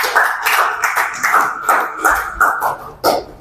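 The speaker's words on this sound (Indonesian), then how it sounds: "Kelompoknya Kesa, kita beri tepuk tangan dulu biar semangat ya." A class of students claps for a student group, brisk rhythmic clapping in repeated bursts about every third of a second, fairly loud and close, with no talk over it.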